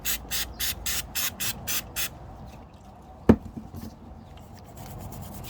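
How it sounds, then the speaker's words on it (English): Brake cleaner sprays onto the rear brake parts of a WRX STI with Brembo brakes in eight rapid short bursts, close and hissing, followed by quieter handling noises and a single sharp knock. "Get some brake cleaner, parts cleaner, or something similar, and you just want to spray it down."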